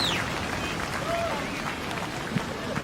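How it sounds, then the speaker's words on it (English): A beach crowd at the Rip Curl Pro Bells Beach surfing contest applauds and cheers for three-time world champion Mick Fanning, a continuous broad roar of clapping and voices in the distance under a commentator's talk. "The crowd making plenty of noise down here for the three-time world champion."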